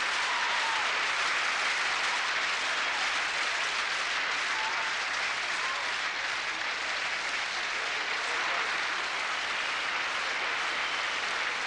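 A stadium crowd of about 16,000 stands and applauds Zola Budd at a 2000 metres race, a dense, continuous roar of clapping that stays loud and even from start to finish.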